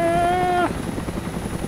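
Helicopter taking off in the DayZ video game, a loud whining turbine tone that cuts off abruptly into a steady, thumping rotor rumble, with no talk.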